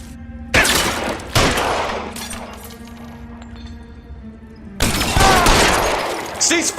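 Gunfire bursts out in the L.A. Noire video game, sharp loud volleys separated by a quieter stretch with a steady hum, followed by another round of shots mixed with clinks and glassy debris.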